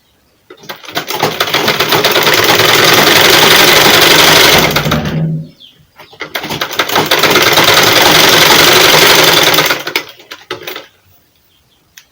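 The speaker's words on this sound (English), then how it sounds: "just place it on your machine and sew it" Sewing machine stitching a two-piece outfit, running in two steady, loud bursts of several seconds each with a brief pause between, the fast needle rattle continuous and close.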